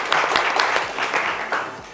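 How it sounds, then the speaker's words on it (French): Brief burst of audience clapping on a French talk show segment with a rapper guest, uneven and fairly close, with individual claps standing out as the applause tapers. "Allez, applaudissements pour leur accompagner, s'il vous plaît."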